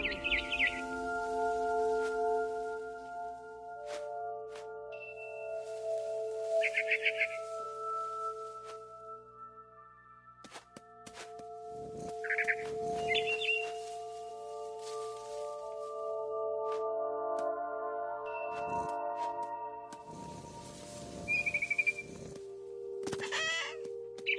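Frightened bird in the video game What Remains of Edith Finch, giving scattered agitated chirps and clucking calls in separate bursts over a sustained low ambient drone.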